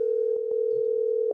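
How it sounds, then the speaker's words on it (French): A telephone line on a live French-language radio broadcast sounds a steady, continuous electronic tone. It stays loud and even for over a second, then cuts off, with faint background sounds beneath it. "Le téléphone a sonné, pas vrai?"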